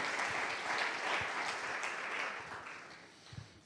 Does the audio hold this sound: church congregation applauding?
yes